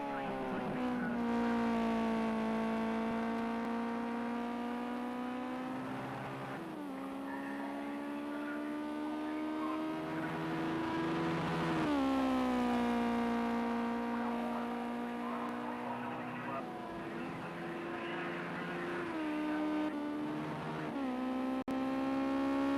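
Ginetta G40 race car engine in Project CARS 2 at Ruapuna Park, a sustained loud buzzing drone that rises and falls with gear changes and braking through chicanes, steady and close throughout.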